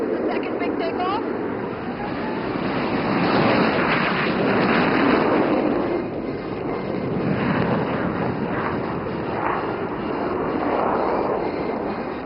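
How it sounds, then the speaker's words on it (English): Several jets of an aerobatic team take off together in Vic formation at an air force station air show, a loud sustained roar swelling and fading over the whole stretch, with a commentator's voice running underneath. "Here comes the second Vic takeoff."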